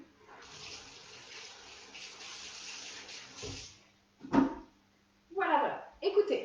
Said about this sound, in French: Je me lave les mains.